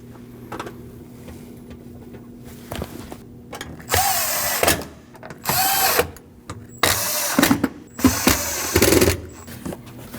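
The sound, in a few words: screws being installed on Subaru Forester fuel pump plate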